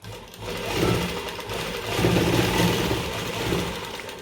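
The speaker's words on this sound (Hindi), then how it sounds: "अब हम यहाँ पे सिलना शुरू करेंगे, और जो सिलाई है वो बुकरम के ऊपर नहीं आनी चाहिए" A sewing machine stitches a kurti neckline over buckram, a close, moderately loud whirring and rattling that swells and slows in short runs.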